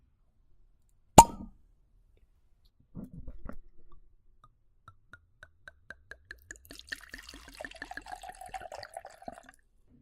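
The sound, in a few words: opening and pouring a wine bottle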